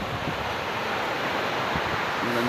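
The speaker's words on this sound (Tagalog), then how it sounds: "Nandito po ako sa beach" Steady ocean surf washes continuously at Basud beach, a broad unbroken hiss with gusts of wind buffeting the microphone and a faint low rumble underneath, no voices present.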